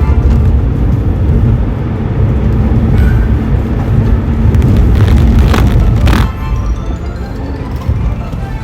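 A BMW 5 Series full-size sedan driving in a video game makes a loud, continuous roar of engine and road noise that holds steady for several seconds before dropping slightly near the end.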